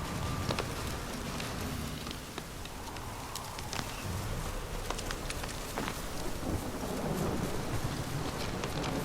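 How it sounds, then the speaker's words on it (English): Heavy downpour in The Witcher 3, a steady broadband hiss of rain with scattered sharp drops and rumbles, holding loud and even throughout. "This downpour's a bastard,"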